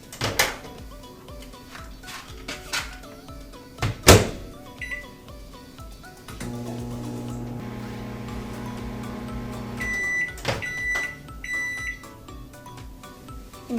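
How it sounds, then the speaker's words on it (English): A microwave oven melting dark chocolate hums steadily through the middle of the clip, framed by clunks of the door opening and closing and a few short beeps. "you're going to be microwaving this for 30-second bursts"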